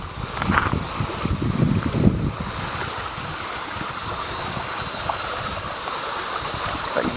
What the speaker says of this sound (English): Oh man, the wind picked up.